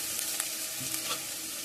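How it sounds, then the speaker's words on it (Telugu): Chili powder frying in a pan for sea fish curry, a steady hiss of sizzling oil with a few faint stirring scrapes. "చక్కగా కారం కూడా వేగింది"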